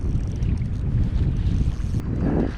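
Strong wind buffets and roars across the microphone on a boat at sea during a bass lure-fishing trip, a continuous loud low rumble with no voices.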